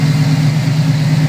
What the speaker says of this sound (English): It's a mighty engine. I'm sure you're getting the sound effects now.